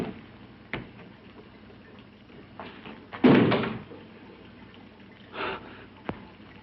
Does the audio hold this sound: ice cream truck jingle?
no